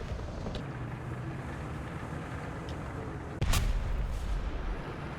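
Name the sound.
T-55AM-1 tank cannon shot at a Leopard in a video game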